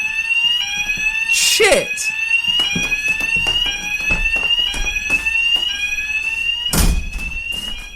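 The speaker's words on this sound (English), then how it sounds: "That is an alarm. It's a real alarm" A real alarm goes off inside a room, a loud, steady electronic tone with bright harmonics that sounds continuously. Someone talks and exclaims over it, and sharp knocks and bumps cut in at moments.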